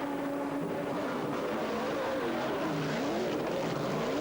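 An FIA GT race car from 2003 pulls out of the pit lane, its engine loud and close, with the pitch climbing and dipping as it accelerates away over a steady wash of background noise.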